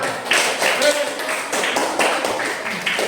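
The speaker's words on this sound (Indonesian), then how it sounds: "Tepuk tangan untuk kelompoknya Andre dan kawan-kawan." A classroom group applauds a student group with a dense patter of many hands clapping steadily and close throughout.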